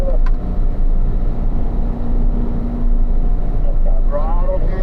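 Corvette engine under throttle on a race track, a steady close in-car drone with wind and road roar throughout; an instructor's voice is heard faintly at moments.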